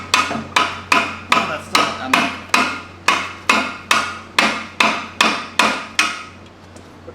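A hammer taps about a dozen times at a steady rhythm on a stuck suspension bolt of a Miata subframe, each blow a sharp close metallic strike with a short ring-off, and a brief word spoken near the end.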